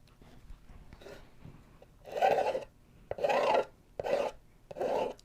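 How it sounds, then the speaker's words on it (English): Scraping a tool firmly over a stencil to press it down on a painted Christmas sign, several rough rasping strokes in uneven bursts, close and clear with short pauses between. "Can you hear that scraping sound?"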